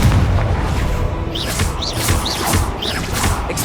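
Confringo blasting spells boom in Hogwarts Legacy, several loud explosive bursts popping in quick succession over a dense, rumbling game soundscape with no talk.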